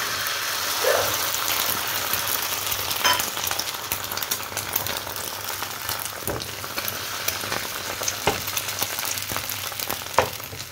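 Eggs sizzle and crackle steadily in a frying pan, a close, continuous hiss with occasional sharper spatters and faint clinks, no voices present.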